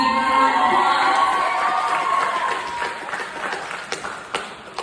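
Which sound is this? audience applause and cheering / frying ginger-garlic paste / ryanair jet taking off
audience applause and cheering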